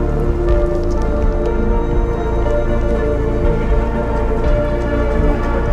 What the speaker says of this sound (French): Je crois qu'il pleut, hein. Un petit peu.